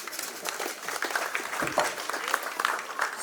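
Guests at a customary wedding applaud in steady, crackling clapping that runs throughout at moderate, somewhat distant volume, with a few voices mixed in.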